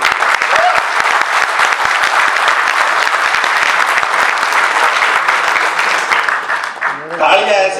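A live comedy show crowd applauds loudly and steadily, thick overlapping claps ringing out for several seconds before the clapping cuts off and a voice briefly begins speaking at the end.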